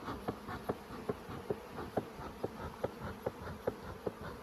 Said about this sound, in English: There's full of bees, lots of bees,